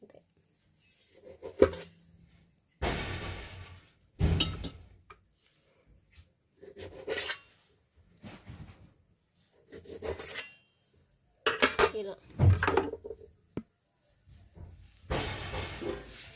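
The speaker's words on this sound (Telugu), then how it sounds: "ఒక్కో టమాటాని ఇంకా దీన్ని నాలుగు ముక్కలు చేసుకున్నాం" A knife cuts tomatoes into quarters in a home kitchen, with rasping, scraping strokes coming in separate bursts followed by pauses. The sound is fairly faint and close.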